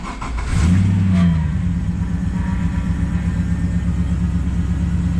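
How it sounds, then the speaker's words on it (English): A Nissan GU Patrol fitted with an LS1 engine cranks briefly, then fires into life with a loud roaring rev that settles into a steady, deep idle, heard close and alone. "Even though she's dead, she still roars right into life."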